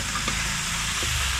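Chicken pieces sizzle and fry steadily in a hot pan for a Kerala-style kappa biriyani, with a couple of soft scraping stirs breaking through the constant crackle, close and alone.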